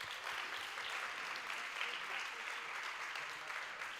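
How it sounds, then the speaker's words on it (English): Sustained applause from an audience at an awards-giving ceremony fills the space, a dense, steady wash of clapping that holds at an even loudness without pause. "can we give umphathiswa a big round of applause?"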